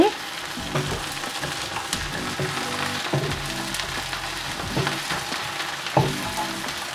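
Onions and curry leaves sauté for a spicy prawn curry, giving a continuous close sizzle broken by occasional clicks and scrapes as the mixture is stirred.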